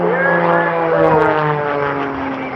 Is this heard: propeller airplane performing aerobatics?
yes